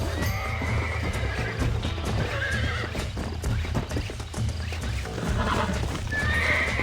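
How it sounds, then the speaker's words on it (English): A horse in the Red Dead Redemption video game clip-clops on the ground and neighs repeatedly, with loud hoofbeats, snorts and shrill whinnies over a low rumbling background. "Come on, John, get the horse"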